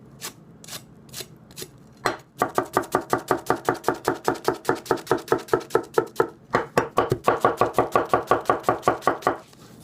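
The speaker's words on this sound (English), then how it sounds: "you'll see here what I mean when I go through the onion" A Tanaka Ginsan gyuto knife slices through an onion in a fast, steady run of crisp chopping strikes on a board, close and clear, with a short pause partway through before the rhythm resumes, and no talk.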